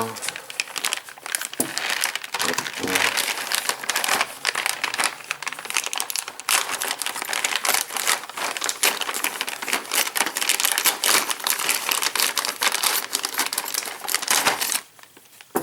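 Plastic wrap and packaging crinkle and crumple almost nonstop as parts of a 1/8-scale Eaglemoss Ecto-1 model kit are unboxed close by, with scattered clicks and rustles and a voice talking now and then.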